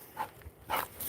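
A dog gives two short barks with a brief pause between them, fairly close and moderately loud, with no one speaking.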